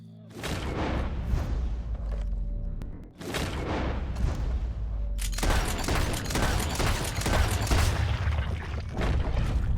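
Gunshots boom in Red Dead Redemption 2, three loud blasts spaced a couple of seconds apart, the last followed by a sustained roaring rumble of continued firing and noise.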